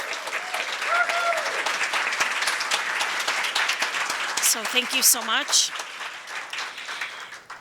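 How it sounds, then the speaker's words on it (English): A round of applause at a business meeting and dinner reception, steady clapping from the crowd while someone speaks over it and a few louder voices rise near the end. "give them a nice round of applause"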